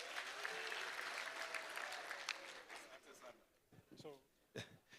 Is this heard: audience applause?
yes